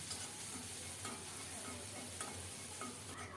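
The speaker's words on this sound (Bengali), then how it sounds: "রসুনটাকে বাদামি করে ভেজে নেব" Garlic and a broken dried red chili fry in mustard oil in a pan, giving a steady close sizzle with light stirring scrapes throughout and no talking.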